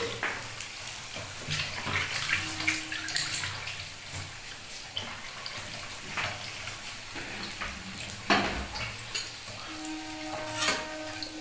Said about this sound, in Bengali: এবার আমি হাতটাকে ধুয়ে নিই।